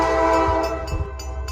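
Horn of SLR locomotive 803 on a passing freight train at Locke Mills–Greenwood, Maine, sounds as a steady, loud, harmonically rich chord held throughout over the low rumble of the moving train.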